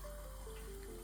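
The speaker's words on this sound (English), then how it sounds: "turn on the water" Tap water runs steadily for handwashing, a soft continuous flow with no talk over it.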